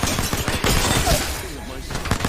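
Gunfire in the Apex Legends video game, rapid bursts of shots rattling densely through most of the stretch, loud and close, with a voice briefly speaking over the firing.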